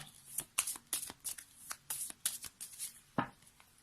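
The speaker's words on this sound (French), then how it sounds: "il nous sort beaucoup trop de cartes. Donc, on va être obligé de couper." Tarot cards are cut and shuffled by hand, a close, quiet run of quick riffling flutters and soft taps in irregular bursts, with no talking.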